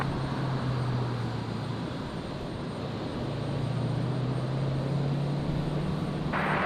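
Qantas airliner taking off from runway 01 right at Brisbane Airport at night, a steady, loud engine roar with a sustained low hum.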